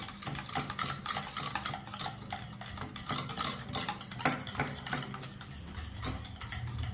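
Egg mixture with onion, green chili and chili powder being stirred briskly in a bowl, giving a steady run of quick clicking, scraping taps close by with no talking.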